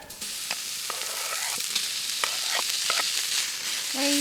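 Food sizzling and frying in a hot pan at a cold-weather campsite in Utah, steady crackle with occasional stirring scrapes and clicks, close and alone.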